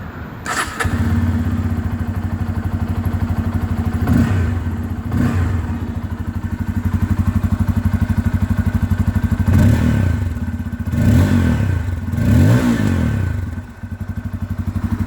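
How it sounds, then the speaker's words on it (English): A 2022 Bajaj Pulsar N250 motorcycle engine starts with a thump, then idles with a deep, bassy exhaust note, broken by several sharp revs. "let us also listen to the exhaust note of this bike"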